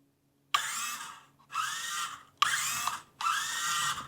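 A 1/24 Toyota Tacoma pickup RC crawler on an FMS FCX24m chassis runs in second gear, its small motor whining up in four distinct bursts separated by short pauses. Each burst is close and clear, with no voices.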